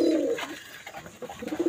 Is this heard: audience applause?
no